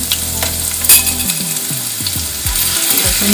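Garlic sizzles loudly in hot oil already seasoned with cumin seeds, a steady crackling fry for spinach and peas sabzi, with a few soft scraping stirs near the end.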